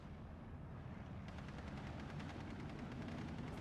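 Wurfrahmen rocket artillery strike in the video game Steel Division 2: a sustained rumbling, crackling roar that holds steady and grows slightly denser partway through, with no talk over it.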